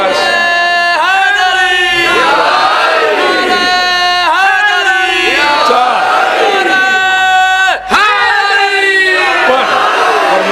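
Crowd at a Muharram majlis chanting religious slogans in unison, loud repeated rising shouts in a steady rhythm, several full-throated chants in succession filling the space.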